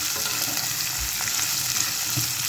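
Onion and garlic frying in a pan for khichuri, a steady close sizzle with occasional stirring scrapes and small pops, continuous and moderately loud with no talking.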